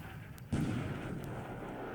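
Shell hit explosion in the War in the Pacific naval wargame, a single sudden heavy boom that strikes after a quiet moment and then trails off into a long rumbling tail.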